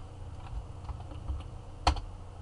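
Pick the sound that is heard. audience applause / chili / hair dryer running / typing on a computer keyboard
typing on a computer keyboard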